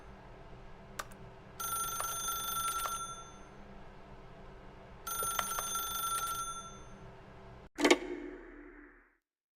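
A telephone rings in the video game The Stanley Parable, two long bursts of electronic bell trilling separated by a pause, then a sharp click as the receiver is lifted, with a low room hum underneath.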